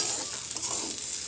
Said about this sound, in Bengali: তারপর ডালটা শুকনো লঙ্কা দিয়ে ভাজছি।